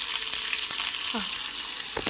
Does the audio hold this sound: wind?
no